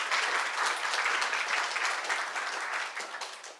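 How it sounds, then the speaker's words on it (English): An audience at a university kick-off event claps in a continuous burst that stays even and full, then thins slightly as it fades at the end. "Let's give her a round of applause."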